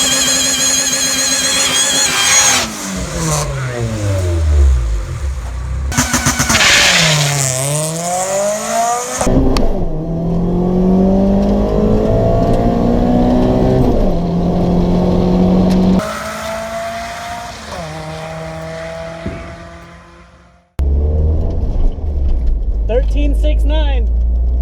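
A Honda Civic with a D16Y7 engine and long-gear transmission accelerates hard on a drag strip, its engine note climbing through several loud rising revs, each broken by a shift, before cutting off abruptly near the end.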